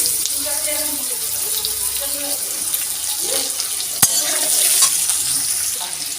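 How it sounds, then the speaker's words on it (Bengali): Cut potatoes frying in oil with black cumin in a home kitchen pan, a steady close sizzle with stirring scrapes and a sharp clink partway through, and someone talking over it. "আলুগুলো একটু ভাজা করে নেবো আমি"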